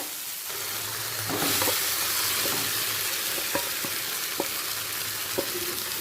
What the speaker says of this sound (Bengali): পেঁয়াজ আর টমেটোর সাথে চিকেনটাকে একটু মিশিয়ে নিচ্ছি